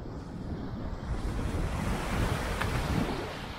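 Ocean waves breaking along the rocky Big Sur coast in California, a steady close roar of surf with wind buffeting the microphone, swelling slightly toward the end.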